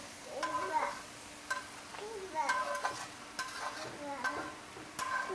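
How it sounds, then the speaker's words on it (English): Stir-fry ingredients, onions and mushrooms among them, sizzle together in one pan while being stirred, with repeated scraping strokes over a steady close fry. "I'm gonna go ahead and combine all of the ingredients into one pan now and let them simmer for a little bit"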